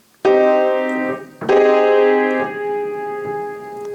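Two sustained piano chords sound in turn, the first ringing for about a second before the second is struck and held, then partly cut off as the sustain pedal is released.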